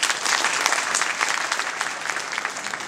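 Dense, sustained applause from a large crowd at an Aam Aadmi Party political speech, loud and steady throughout with no voices over it.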